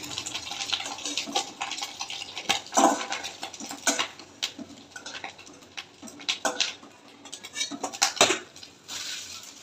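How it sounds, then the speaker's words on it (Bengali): Fried eggs are lifted out of a pan in a home kitchen, giving steady metallic scrapes and clinks of a utensil against the pan over a constant frying sizzle, close and continuous. "ডিমগুলো ভাজা হয়ে গেছে, এবার তুলে নেবো।"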